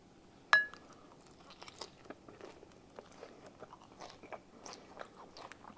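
Someone eats a pear salad with crunchy sweet potato bites: a sharp first bite is followed by quiet, close chewing with soft crunches and light rustles, without speech.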